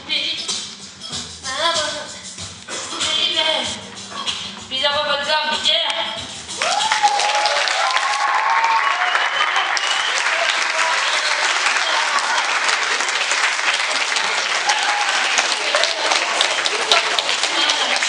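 Sustained audience applause erupts after a live cover of a song, starting as the last sung phrases and a voice fade and then continuing as loud, dense, steady clapping to the end.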